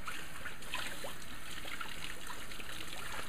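Tap water runs steadily over juicer parts being rinsed in a sink, a continuous close trickle and splatter with small shifts as the pieces move under the stream.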